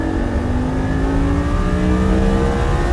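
A V10 Lamborghini accelerates hard on an F1 track, its engine note climbing steadily in a loud, continuous rising whine heard from close inside the car, with no talk over it.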